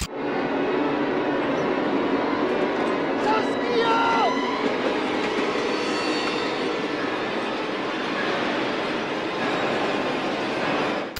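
A train rolls along rails in a horror film scene, a steady, loud rumbling with brief metallic wheel squeals early on, continuous throughout under a dim wash of background noise.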